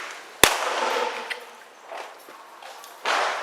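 A single sharp, loud report from a CZ 97B pistol firing .45 rounds cracks out early, then fades into a hissing, echoing room tone with faint rustles and shuffling afterward.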